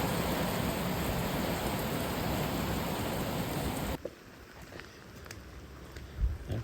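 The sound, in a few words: rain falling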